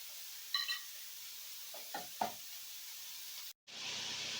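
Meatballs browning in a pan give a steady, soft sizzle with a couple of brief stirring clinks and scrapes, close by and without talk.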